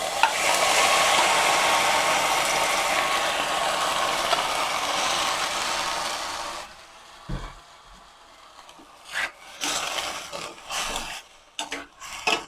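Marinated pork stirred and frying in a pan, a loud steady sizzle with scraping at first, then the sizzle drops away and gives way to intermittent utensil scrapes and knocks against the pan.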